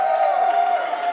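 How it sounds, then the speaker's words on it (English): A wrestling crowd cheers and applauds in a dense, continuous roar with a sustained tonal whistle or shout riding on top, loud and close for about a second. "The crowd firmly enjoying this match."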